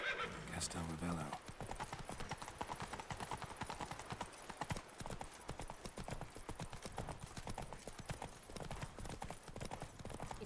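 Roach, the horse in The Witcher 3: Blood and Wine, running with rapid rhythmic hoofbeats close by and a short neigh near the start, mixed with in-game sound and background voices.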